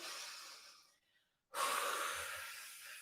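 A deep, noisy inhale drawn in a yoga class, a long breath that fades, a brief pause, then a strong rush of breath, close and unaccompanied by speech.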